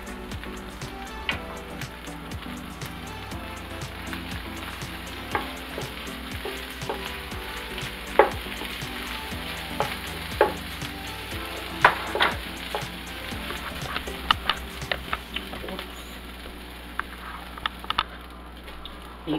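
Rice tipped into a simmering pan of vegetables and stirred, giving steady sizzling and frying with scattered crackles and scraping stir strokes, close and continuous throughout.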